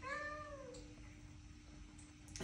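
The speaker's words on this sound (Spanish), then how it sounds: "Checa este gato, mira qué cosa más bonita." A domestic cat meows once near the start, a clear rising-and-falling cry, followed by quiet room tone and a faint soft sound near the end.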